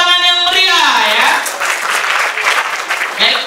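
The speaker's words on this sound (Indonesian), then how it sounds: "Mari kita sambut dengan tepuk tangan yang meriah ya." A seminar audience breaks into sustained, dense applause to welcome Dr. Gamal Albinsaid to the stage at an inspirational talk. The clapping follows the host's brief closing words and holds steady, loud and close, for about three seconds.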